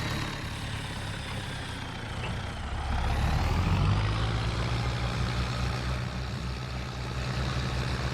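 A farm tractor engine runs steadily as it turns around in a field being plowed, a loud continuous low rumble that swells slightly in the middle with no talk.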